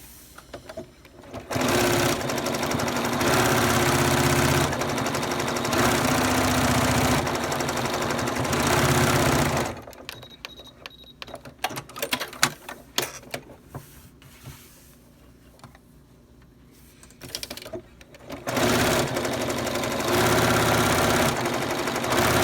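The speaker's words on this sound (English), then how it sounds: "I'm going to stitch down, and then I'm going to back stitch." A sewing machine stitches a kids face mask in a loud, steady mechanical whir, pauses briefly for a stretch of quieter rattling and clicks while back stitching, then runs at full speed again.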